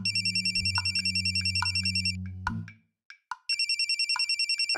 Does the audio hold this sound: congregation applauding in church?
no